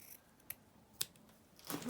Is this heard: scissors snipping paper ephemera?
yes